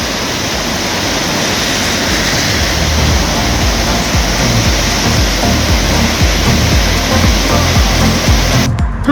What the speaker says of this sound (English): Raging water.